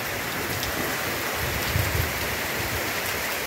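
Heavy rain pours down steadily, a dense, even hiss of drops drumming on surfaces close by, constant and unbroken with no voices.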